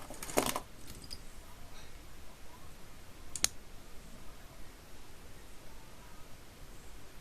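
Jewellery wire being trimmed with cutters while wrapping a stone ring by hand: a sharp snip at the start and another single crisp click midway, both close, over a steady soft hiss.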